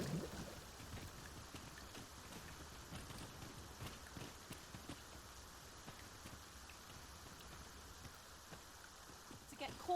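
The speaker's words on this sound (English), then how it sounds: "To get caught out in such a downpour." Rain falls in a steady downpour in the video game Dragon's Dogma 2, a faint continuous patter with occasional drip spikes, while a voice speaks over it.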